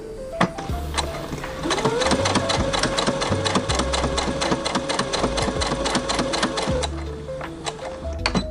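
A sewing machine stitches the cuff and lining of a mini Christmas stocking together, a close, fast mechanical rattling run that starts and stops briefly at each end.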